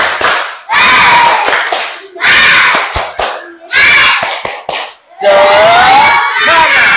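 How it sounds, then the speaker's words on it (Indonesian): A class of children chanting the rhythmic spirit clap in unison, loud bursts of shouted syllables alternating with sharp group hand claps in repeated phrases. "Tepuk semangat."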